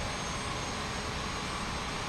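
A steady, dense broadband roar of an airliner jet engine in Microsoft Flight Simulator 2020, an Airbus A220-300 near a runway, loud and unchanging throughout with no talk.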